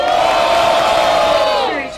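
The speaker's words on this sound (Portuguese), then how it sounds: "Barulho que gostou das rimas do AJ" A large crowd cheers and shouts loudly and continuously at a rap battle in Itaquera, a dense roar that holds steady and then fades slightly at the end.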